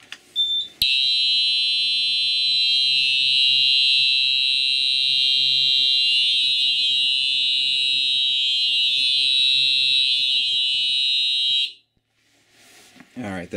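A Simplex 4010 fire alarm system sounds a loud, steady electronic alarm tone that runs continuously for about eleven seconds and then cuts off abruptly, leaving quieter room noise.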